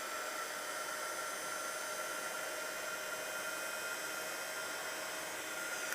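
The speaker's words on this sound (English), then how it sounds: "And then we'll take our heat tool and just heat this up." A craft heat tool blows hot air over embossing powder on a Christmas rose card, producing a steady, loud, unbroken whooshing whir from start to finish with no talking.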